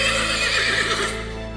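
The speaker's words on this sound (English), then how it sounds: "I see someone mounted on a tall horse" A horse neighs loudly and close at hand in a drama set in Sleepy Hollow, with a long whinny and a faint clip-clop of hooves under it.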